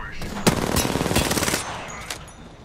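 Rapid automatic gunfire from the video game Apex Legends, a loud burst of close shots followed by a few more scattered rounds.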